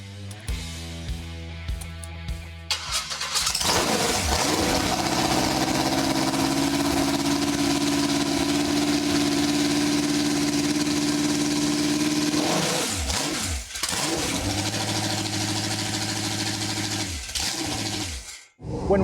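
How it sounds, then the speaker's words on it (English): A Chevy 350 small-block V8 with over 13:1 compression, fired up on pump gas on a dyno, fires into a loud, steady idle close by after a few cranking beats, then the engine blips and settles. "Then we ran fuel and electrical lines and fired this small block up."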